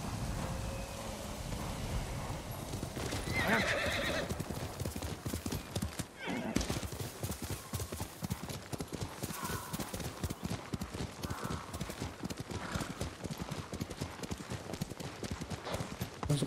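Horse in the video game Ghost of Tsushima, steady clip-clop of hooves with a whinny early on, rain-like ambience underneath and a voice speaking at times over the hoofbeats.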